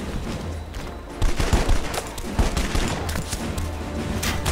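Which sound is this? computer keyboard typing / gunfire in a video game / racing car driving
gunfire in a video game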